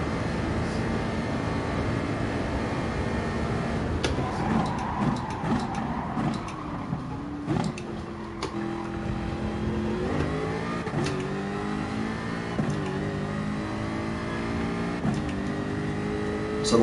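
A race car brakes into a corner and then accelerates out, its engine dropping in pitch before revving up through rising gear pulls, loud and close, with no talk.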